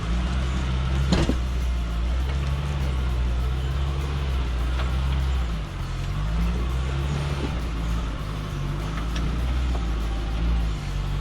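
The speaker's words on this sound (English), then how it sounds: "Samurai crawls pretty good." A Samurai off-road vehicle on small 31-inch tires crawls along a trail in a very low crawl gear, its engine giving a steady, close low rumble with slight shifts in pitch and no talking.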